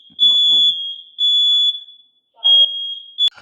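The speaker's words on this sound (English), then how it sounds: "So basically, that was the alarm" Smoke alarm in a home sounding loud, piercing electronic beeps in three long bursts with short gaps, with brief voices murmuring between the bursts.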